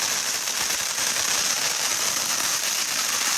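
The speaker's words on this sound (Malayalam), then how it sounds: "നമ്മൾ പടക്കം പൊട്ടിക്കാനായിട്ട് ഈ വീടിന്റെ ബാക്ക് യാർഡിലേക്ക് വന്നിരിക്കുകയാണ്" Firecrackers burst in a house backyard at night, a continuous dense crackling and hissing that stays loud and even throughout.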